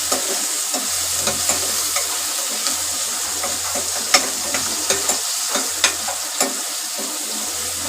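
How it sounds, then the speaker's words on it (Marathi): Red cowpeas with spices sauté in a pan, with a steady close sizzle and scattered clicks and scrapes from stirring throughout, and no talking. "चांगलं परतून घेते मी"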